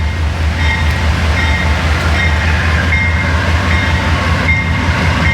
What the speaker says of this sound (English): And you hear a train coming through.